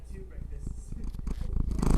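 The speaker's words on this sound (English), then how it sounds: "You purr into the mic?" A cat purrs close to the microphone, a low rhythmic rumble that grows louder toward the end, with a person speaking over it.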